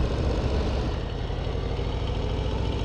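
Harley-Davidson Street Bob 117 motorcycle engine running in second gear, a steady loud low rumble with dense exhaust pulses throughout, continuous and close with no talk.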